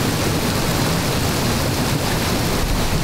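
Rain-swollen waterfall in the Lake District, pouring with a dense, constant hiss and roar heard up close, with no other sounds.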